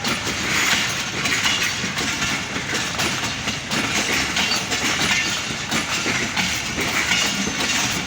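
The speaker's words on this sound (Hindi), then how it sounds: "जो ये अभी ट्रेन गुजर रही है माशाल्लाह बहुत लंबी ट्रेन है" A long passenger train of about 15 to 17 coaches rolls past close by, its continuous loud rumble and clickety-clack of wheels steady throughout with no voices.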